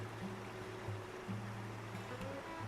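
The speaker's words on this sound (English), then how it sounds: "So far, our babbling brook is about that right there." A small babbling brook beside a woodland trail gives a faint, steady trickle and gurgle of running water, quiet and continuous with no voices.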